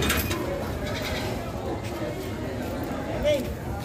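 Goats bleat at a busy livestock trading market, one clear bleat rising near the end over a steady bed of crowd noise and nearby conversation.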